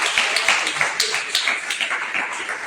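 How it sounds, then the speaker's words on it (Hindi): A church congregation claps loudly in quick, irregular bursts, a dense patter of many hands continuing steadily without speech. "ताली बजा दीजिए जोरदार"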